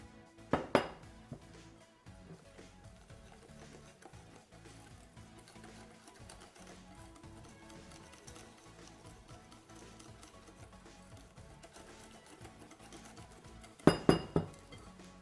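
Milo mug cake batter whisked in a bowl, a quiet continuous scraping with bursts of sharp metal clinks against the bowl near the start and end.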